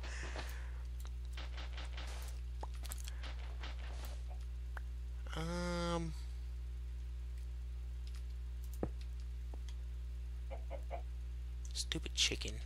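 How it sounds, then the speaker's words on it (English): Minecraft chicken lets out one brief, distinct cluck in the middle of a quiet stretch, set against a low steady hum with scattered faint keyboard clicks before and after. "Stupid chicken."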